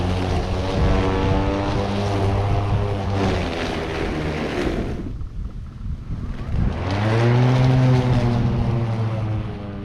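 An electric lawn mower runs steadily with a strong motor drone and harmonic hum, briefly cutting out near the middle before spinning back up to full speed.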